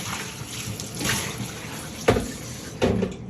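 Tap water runs steadily while a coffee pot is rinsed out, a continuous close hiss broken by two sharper clunks near the end.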